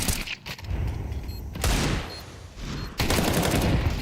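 Gunfire in Counter-Strike 2 during a tournament match, with bursts of rapid shots in dense clusters, loud and close, broken by brief pauses.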